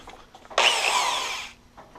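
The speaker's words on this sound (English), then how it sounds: "First, we'll plug our drill into an electrical outlet for electricity power" An electric corded drill whirs up suddenly and runs steadily at high speed for about a second before stopping, loud and close, with faint background noise around it.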